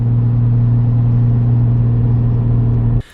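A Nissan R33 Skyline fitted with a new turbo idles with a steady, loud low engine drone and strong tonal hum, running evenly for about three seconds before cutting off abruptly.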